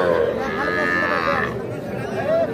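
At a busy cattle market where heifer and bull calves are sold, a nearby cow lets out a long, loud moo. Crowd chatter murmurs underneath.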